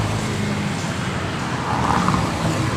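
Honda Steed 400 bobber motorcycle idling with a brass-tipped exhaust and no baffle insert, giving a loud, steady, rumbling drone that holds evenly throughout.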